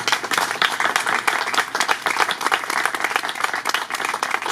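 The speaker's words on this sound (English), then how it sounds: "let's give a round of applause for them" An audience applauds the parents at an Eagle Scout court of honor, a dense, steady round of clapping from many hands throughout.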